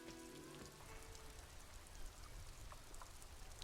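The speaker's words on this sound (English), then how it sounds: "it's raining." Rain falls in the video game Disco Elysium, a steady, dense hiss of drops on hard surfaces that stays even throughout, with no talk over it.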